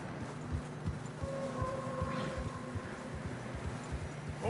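Horses tramp through deep fresh snow on a narrow mountain trail in Red Dead Redemption 2, giving soft, muffled, steady clip-clop hoofbeats under low wind and ambient tones. No one talks.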